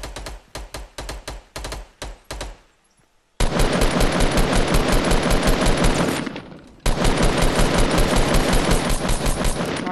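Fortnite machine gun fire bursts out in a fast, loud, close rattle during a duos match. Short choppy bursts come first, then a brief pause, followed by long sustained volleys with a slight gap between them.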